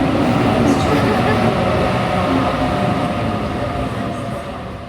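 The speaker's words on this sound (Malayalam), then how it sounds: "അതും ചില്ലറ ട്രെയിനല്ല, ഡബിൾ ഡെക്കർ ട്രെയിൻ." Steady, loud rumble of a double-decker train in motion in Sydney, a continuous low roar with rattling, fading slightly toward the end.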